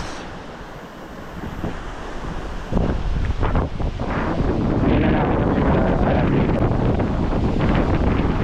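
Strong high-tide surf at Bulabog Beach, Boracay, with loud waves crashing continuously against heavy wind buffeting the microphone, growing rougher after a few seconds.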